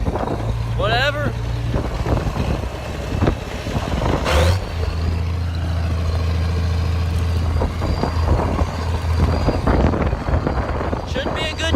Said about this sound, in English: So I'm just kind of riding on the tractor with Jake.